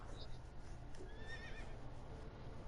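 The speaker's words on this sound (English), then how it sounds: "Lucius, the Roman stallion." A Roman stallion mount in Assassin's Creed Origins gives one short, bright whinny in the middle of the clip over a steady background hum of the game.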